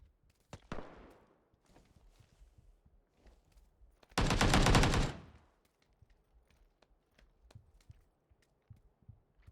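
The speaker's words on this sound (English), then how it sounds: "Was someone actually shooting at me?" Bursts of video game gunfire: a sharp shot near the start, a dense, loud automatic volley lasting about a second midway, and scattered fainter shots and clicks throughout.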